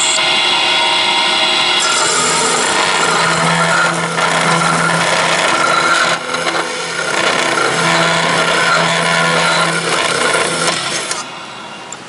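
A chop saw cuts through 80/20 aluminum extrusion with a loud, continuous grinding whine that holds steady for about twelve seconds, with a slight dip partway through and no voices over it.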